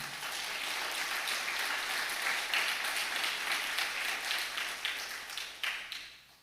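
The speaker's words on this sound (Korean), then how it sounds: "박수 한번 칩시다" A church congregation applauds in a dense, continuous wash of many hands, steady and full, then thins slightly toward the end with a few sharper claps standing out.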